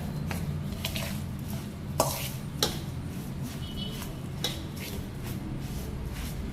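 Soft scraping and stirring of moong dal mathri dough ingredients with ghee in a bowl, with a few light knocks of a utensil, close by and fairly quiet, with no talking.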